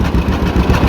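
A John Deere AR tractor engine idles after a pull with a heavy sled, giving a steady, close, low chugging beat that repeats evenly throughout.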